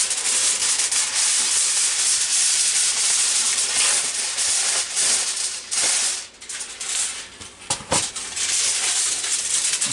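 Reynolds aluminum foil is pulled off the roll to cover a meatloaf pan, giving a loud, steady crinkling hiss that runs almost unbroken before it thins into a few rustles near the end.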